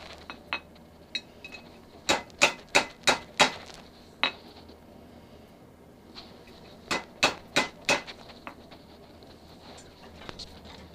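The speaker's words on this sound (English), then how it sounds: "Basically all I've been doing is hammering this so it shrinks it" Sharp metallic hammer blows on hot metal at a backyard blacksmith's anvil, struck in two quick bursts of about five to six ringing hits each, with a few scattered single taps between them.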